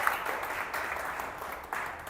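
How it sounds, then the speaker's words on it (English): Audience applause for a women's cricket team at a league player auction, a steady broadband clapping wash with a couple of louder swells, lasting the whole stretch. "let's have a round of applause for the Dragon Queens"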